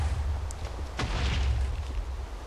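Explosions in the Feeding the Beast modpack rumble on as a deep, continuous low roar, with one sharper boom bursting out near the one-second mark.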